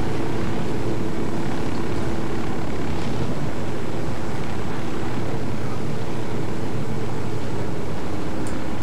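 Aircraft engine in the Ghost Recon Wildlands video game, a loud, constant droning roar with a steady low hum that persists unbroken throughout, no talk over it.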